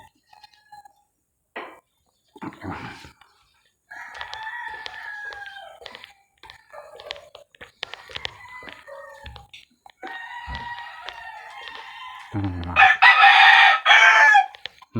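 Several chickens cluck in short bursts, with a rooster crowing loudly near the end; one brief murmur from a person.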